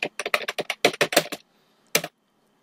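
Keyboard keys clatter as Microsoft Access is typed into a Google search: about a dozen quick, close keystrokes, a short pause, then one final tap, in a quiet room.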